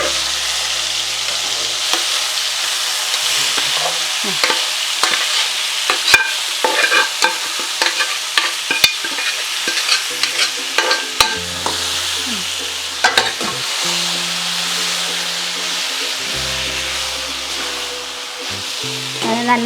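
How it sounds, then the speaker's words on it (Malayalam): Upperi, a stir-fried vegetable dish, sizzles steadily in a pan while a spatula stirs and scrapes it in repeated strokes. The frying is loud and close with almost no talk. "നന്നായിട്ട് ഇളക്കണം."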